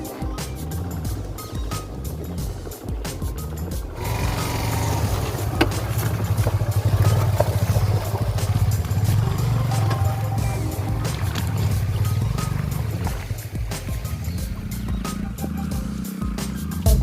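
A motorcycle rides a rough, rocky forest trail with a steady, droning engine under constant clatter and jolts from the bumpy ground. The engine runs close and continuous, swelling slightly in the middle.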